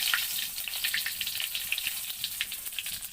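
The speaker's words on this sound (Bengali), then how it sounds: "এখন দিয়ে দিলাম তেজপাতা" Bay leaves dropped into hot oil in a pot for a home chicken curry, a continuous close bright crackling sizzle with dense popping, steady and fairly quiet.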